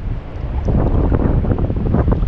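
Strong shore wind buffets the microphone in a steady, loud roar, with gusting rumble and no voices.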